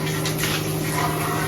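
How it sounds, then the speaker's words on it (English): A fridge freezer container being rinsed out, with a steady close rush of running water and a faint underlying hum, no voices. "I'm just gonna rinse this out."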